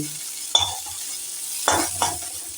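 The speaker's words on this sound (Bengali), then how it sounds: "ফুলকপিগুলো আমার প্রায় লাল লাল করে ভাজা হয়ে গেছে।" Cauliflower pieces frying in oil in a wok and being stirred, a steady sizzle with a few distinct scraping stirs at close range and no talking.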